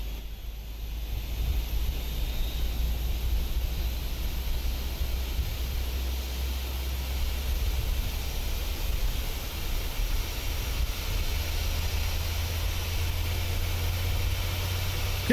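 The engine of a Boeing 737 in Microsoft Flight Simulator runs as a steady, even roar of broad noise over a low droning hum, holding at a constant moderate level without speech.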